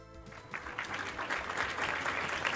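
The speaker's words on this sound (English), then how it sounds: "round of applause for Plex" Audience applause at an esports tournament's group stage, fading in after a brief quiet start and building into steady, fairly dense clapping that holds to the end, with no talk over it.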